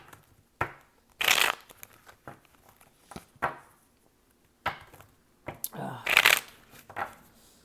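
Tarot cards riffle-shuffled in several quick bursts, with two loud papery flurries and softer shuffling between them, up close with no talking.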